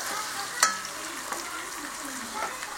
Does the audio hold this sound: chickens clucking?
no